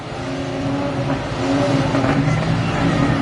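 Drag race car at Mopar Sunday 2023 with a clutch-equipped launch, a loud, steady engine drone that thickens and grows slightly louder midway, dense rumble throughout with no voices.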